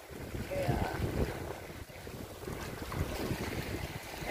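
Gusty wind buffets the microphone in low, uneven rumbles on the island of Roatan, with faint background sound and no clear speech.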